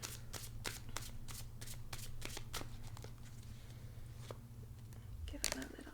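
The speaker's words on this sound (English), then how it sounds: "Give it a little shuffle." Tarot cards are shuffled in a series of crisp riffles and flicks, close and quiet, with soft handling sounds between bursts.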